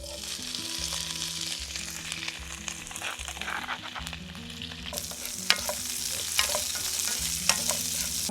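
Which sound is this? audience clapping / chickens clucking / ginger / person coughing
ginger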